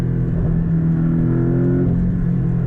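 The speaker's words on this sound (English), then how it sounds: "So now we'll get the maximum cracks and pops on the exhaust." A Porsche 718 Boxster GTS with turbo engine revs up in a loud, steady rising drone, its exhaust humming close by with no clear separate pops.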